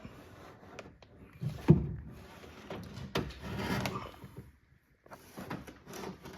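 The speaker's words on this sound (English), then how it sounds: "now you can pull your actuator out" A window actuator being pulled out of the door of a 2015 Toyota Highlander, heard as scattered close clunks, knocks and plastic rustling at a fairly quiet level, with one sharper bump.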